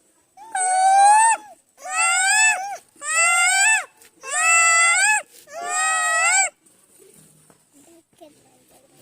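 A child imitates a peacock with five long, loud, wailing calls. Each is nasal and strained, lasts about a second, and comes at a steady rhythm with short pauses between. Near silence follows.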